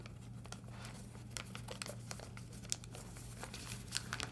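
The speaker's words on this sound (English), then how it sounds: "you're literally just gonna go ahead and fold this in half and fold this other side in half as well." Paper being folded in half for a Star Wars R2-D2 origami figure, heard as quiet, close crinkling and crisp rustles with a few sharper creases, set against a steady low background hum.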